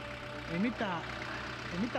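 Steady car engine idling after a radiator replacement, a low continuous hum with someone speaking over it.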